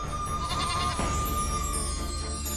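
Sheep bleat amid a steady background din, a few wavering calls rising briefly over the continuous noise at a moderate distance.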